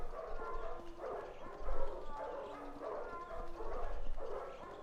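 A dog from the game Silent Hill 4 makes repeated soft, whiny yelping cries with a cat-like quality, fairly quiet and alone.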